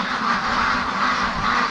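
A group of free-range ducks quacks continuously as they are let out of their pen, overlapping nasal calls close by with no talking.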